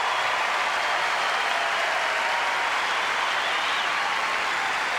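Tennis crowd at the 1998 Lipton Championship final applauding after Venus Williams breaks serve against Anna Kournikova, a steady wash of clapping heard from a distance and held at an even level.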